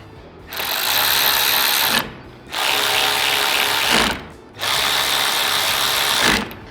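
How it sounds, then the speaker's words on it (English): Hex key ratcheting on the mount bolts of a Z1 Off-Road roof light mount on a Nissan Xterra, in three sustained bursts of dense metallic clicking separated by short pauses, close and loud. "Go ahead and tighten these up with the 4mm."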